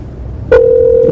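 A telephone call to a McDonald's in Houston, Texas, rings: after a brief click, a single steady ringback tone begins and holds, loud and clean, with no voices.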